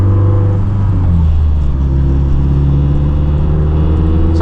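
A Mazdaspeed 3 pulls hard in third gear on pump gas, its engine drone loud and continuous with a steadily rising tone, heard from inside the car.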